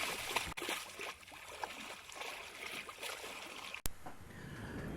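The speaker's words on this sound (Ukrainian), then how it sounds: "А рибка плешиться тихо, піано і майже не чуть." A fish splashing in water, soft, quiet splashing and trickling, with a few slightly sharper splashes, faint and close.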